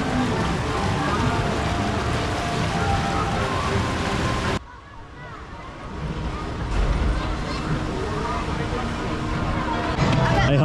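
Heavy rain pours at Chessington World of Adventures theme park in a dense, continuous hiss, with faint crowd murmur. The rain drops sharply in level partway through, then builds back up.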